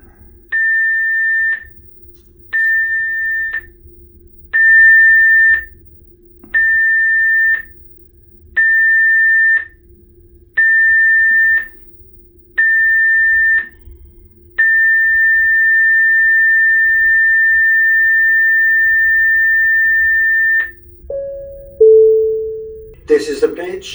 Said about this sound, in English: the general emergency alarm will be sounded